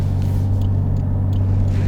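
Interior of a 1990s Toyota Cressida with a 1JZ engine while driving: a steady low engine drone and road rumble, continuous and fairly loud, with no talking.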